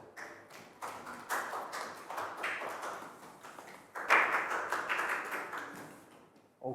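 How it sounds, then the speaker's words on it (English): Pupils in a Year 3 classroom clap for a classmate during a geometry lesson, a dense patter of small hands lasting several seconds with a brief fresh burst near the end. "Big round of applause for Nadia."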